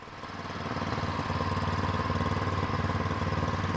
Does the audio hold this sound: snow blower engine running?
yes